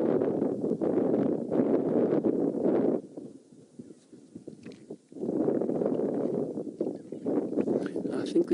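Wind gusts buffet an open safari vehicle on a game drive while cheetahs lie at a distance, a rough rumbling roar that rises and falls under a voice.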